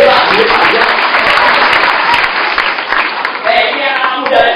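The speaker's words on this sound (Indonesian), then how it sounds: "kasih tepuk tanganmu" A church congregation at GBI REM claps during a pastor's sermon, a dense, loud burst of applause with crowd voices mixed through and some speech-like murmur.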